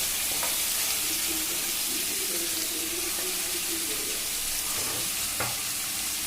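Onions and tomatoes sautéing for sambar give a dense, steady sizzle that fills the whole stretch, close and loud, with a few faint stirring knocks.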